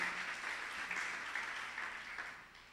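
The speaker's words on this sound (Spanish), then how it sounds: "Alguien tiene que darle un aplauso fuerte al Señor en esta hora." Church congregation applauding during a Spanish-language service, a soft, steady wash of clapping heard somewhat distant and fading slightly toward the end.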